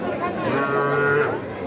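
A young Sahiwal calf gives a drawn-out nasal moo close by at a cattle market in Gaibandha, with faint crowd chatter behind it.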